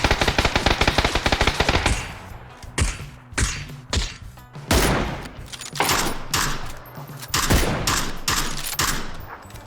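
Automatic gunfire in the battle royale game PUBG, starting with a dense rapid burst and then breaking into repeated short volleys and single loud shots with brief gaps between them.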